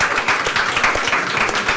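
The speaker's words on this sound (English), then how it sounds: "let's give a warm applause to her" A crowd at the e-Residency third birthday celebration gives warm, dense applause, a continuous wash of many hands clapping together, loud and close throughout.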